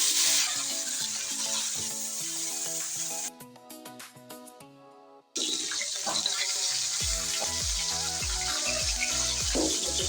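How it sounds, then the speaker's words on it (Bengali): Fish fry in a hot wok with a steady hissing sizzle over background music; the sound drops away briefly in the middle, then returns loud. "কড়াইয়ের ভিতরে মাছগুলো দিয়ে দিচ্ছি।"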